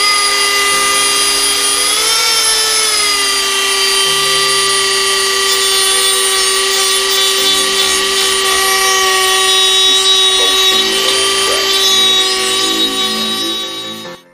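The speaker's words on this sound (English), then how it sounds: "all these little metal shavings here, if you would, I'm gonna have to kind of grind them down," A power grinder smoothing down metal shavings on a homemade camera tripod dolly, producing a loud, steady, high whine that holds for over ten seconds with slight pitch shifts before cutting off.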